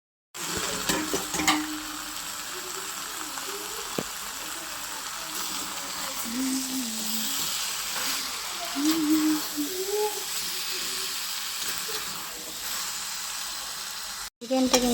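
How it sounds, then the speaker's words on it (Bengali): Chicken sautéing in a pan, releasing its water, produces a continuous loud sizzle and hiss with scraping stir sounds, and a voice talks faintly underneath at times. "এখন চিকেনটা আমি কিন্তু কষিয়ে নিচ্ছি।"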